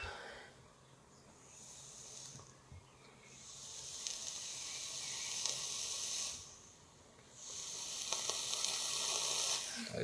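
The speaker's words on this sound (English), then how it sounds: "Listen to that pop, snap, crackle, and pop. Good old rice bubbles, huh?" Rice Bubbles cereal soaking in juice, giving a faint, fine crackling and fizzing that swells and fades in waves, close up with no talk over it.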